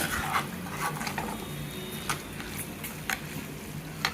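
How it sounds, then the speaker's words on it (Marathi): Prawns stir-frying in a pan make a soft, steady sizzle, broken by occasional light scrapes and taps as they are turned. "दोन मिनटं आपण ही कोलंबी चांगली परतून घ्यायची"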